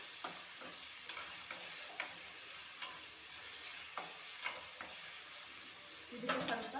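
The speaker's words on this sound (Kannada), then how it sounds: "ಟೊಮೆಟೊ ಹಾಕ್ಕೊಂಡು ಈ ಥರ ಸ್ವಲ್ಪ 15 ನಿಮಿಷ ಫ್ರೈ ಮಾಡ್ಕೋಬೇಕು." Tomatoes fry in a pan for avrekalu, a soft continuous sizzle with a spoon scraping and stirring at intervals, and a brief clatter of the spoon against the pan at the end; fairly quiet overall.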